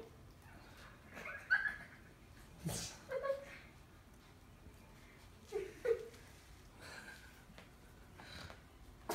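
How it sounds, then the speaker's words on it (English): A poodle puppy gives a few short, scattered barks and yips, close by, with quiet pauses between them. "What are you barking at, Precious?"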